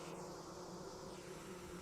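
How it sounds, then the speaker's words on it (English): Bees hum in a steady, faint drone in the survival game Vintage Story, a continuous buzzing swarm that holds evenly with nothing else heard over it. "I hear more bees."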